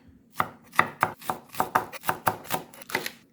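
A knife slices green onion diagonally on a cutting board with about ten crisp, evenly spaced chops. The strokes are close and distinct, with quiet gaps between them.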